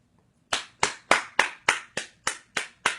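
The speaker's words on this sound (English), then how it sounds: "I'll clap right there." Eight sharp hand claps, evenly spaced about a third of a second apart, loud and close with no talking underneath.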